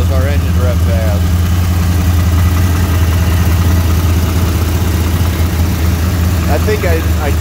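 A Pontiac V8 with an automatic flex plate runs loud and close with a deep, steady rumble, and someone talks over it throughout.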